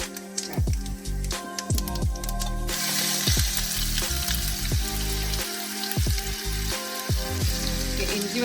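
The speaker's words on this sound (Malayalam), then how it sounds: "ഇഞ്ചി വെളുത്തുള്ളി പൊരിഞ്ഞ് വന്നിട്ടുണ്ട്." Ginger and garlic fry in a hot pan with steady, loud sizzling and crackle throughout, broken by clinks and scraping from a stirring utensil.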